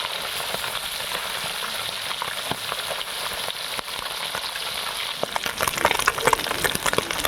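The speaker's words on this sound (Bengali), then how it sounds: "ভালো করে কড়া করে ভাজতে হবে" Puti fish fries crisply in hot oil with a steady, dense hiss that swells near the end into louder crackling and popping.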